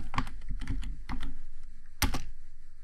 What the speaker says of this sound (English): if I just start typing